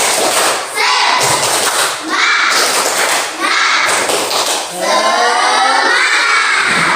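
Schoolchildren in a classroom perform a rhythmic spirit clap, chanting together in loud bursts punctuated by thumping claps and pauses, the group voices close and energetic.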